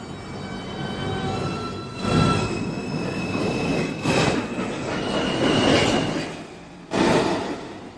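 A Manhattan-bound NYC subway 2 train pulls into the station, with sustained rail rumble, wheel squeal and clattering over the tracks, rising in bursts as cars pass close by; no talk.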